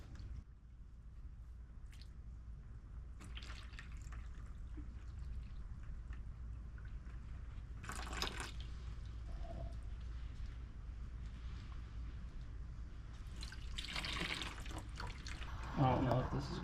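Water drains from opened pipes during a master bathroom demolition, heard as a faint, continuous trickle and squishy dribbling with occasional splashes and clatter, growing a little louder near the end, with people talking now and then.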